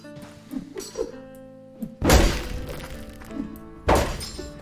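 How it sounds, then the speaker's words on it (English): Objects smashed in a gladiator combat video game, two loud crashing thuds with shattering debris, separated by a couple of seconds, following quieter muffled knocks. "And you can destroy objects"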